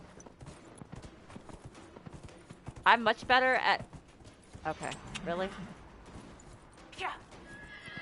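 Horse hooves clop and a horse neighs while racing in the video game Dragon Age: Inquisition, with a loud whinny bursting out midway amid steady galloping, as a player talks over the game sounds.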